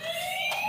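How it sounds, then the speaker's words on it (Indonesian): A fire truck siren sounds in a short, steady, high wailing tone, heard alone and at moderate distance for under a second. "Widih, mobil pemadam kebakaran teman-teman."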